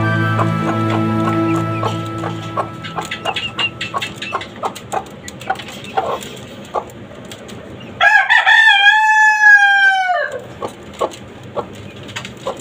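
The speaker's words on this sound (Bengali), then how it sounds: "এই দেশি মুরগিটাকে কুচে বসে আপনার এই বাচ্চাগুলো ফুটানো হয়েছে।" Free-range desi hen and her month-and-a-half-old chicks cluck steadily in cages on a Dhaka rooftop, with a loud rooster-like crow rising near the end.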